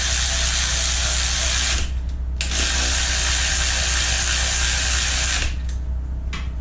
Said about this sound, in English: Actually, I'll run that all the way down. There we go. Run these bolts down.